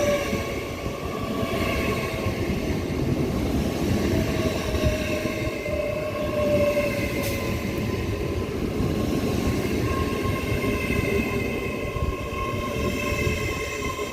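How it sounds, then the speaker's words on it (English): An Intercity 225 train rolls through Doncaster station with a steady, continuous rumble and a sustained tonal hum, heard at moderate distance with no talking. "it'll be nice to see Intercity 225 801 229 leading the way"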